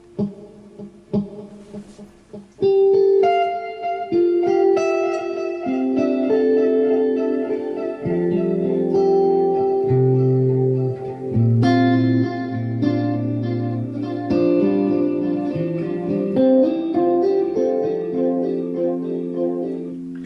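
An electric guitar runs through a delay pedal with built-in reverb, a few sparse plucked notes followed by sustained chords and melodic lines that ring out with echoing repeats and a lush wash of reverb.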